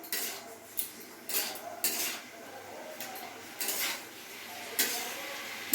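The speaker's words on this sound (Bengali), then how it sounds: "এটাকে এবার ভালো করে আমি নাড়িয়ে নেব।" Turmeric being stirred into idli sambar in a pot, with a metal spoon clinking and scraping against the pot in irregular strokes, fairly close and soft, with no talk.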